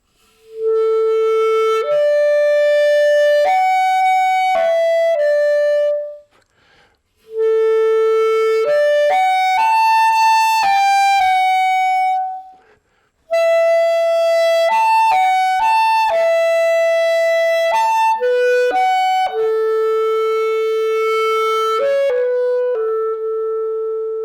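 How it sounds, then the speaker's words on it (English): An A clarinet plays a typical orchestral solo in three flowing phrases of clear, woody notes with short breaths between them, close and solo with no accompaniment. "I'd like to demonstrate the sound of the A clarinet by playing a typical solo that would be used on the instrument"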